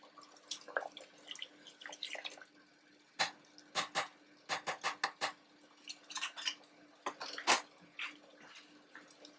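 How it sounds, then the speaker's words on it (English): Rice being washed by hand in water, with irregular splashing, swishing and clinking bursts against a pot, close and fairly soft. "Then I'm going to wash my rice and come back."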